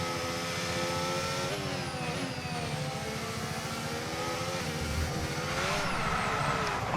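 Formula 1 race car in the F1 25 video game accelerating hard around the Circuit of the Americas in the USA, a loud continuous engine whine with rising pitch sweeps through gear changes, steady throughout with no talk.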